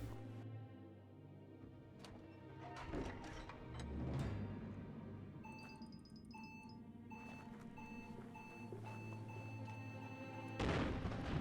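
Booming blasts and crashes from a bomb going off in the action game Biomutant, heavy low rumbles spread across several seconds, mixed with electronic beeping tones and game effects.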